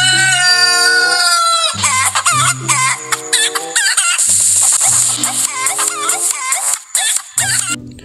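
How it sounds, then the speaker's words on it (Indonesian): A rooster crows loudly and up close in one long opening call, then clucks and squawks repeatedly in rapid, choppy bursts, with lively background music running underneath. "Wow, ayam jago."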